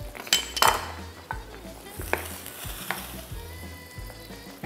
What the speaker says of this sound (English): In goes my garlic.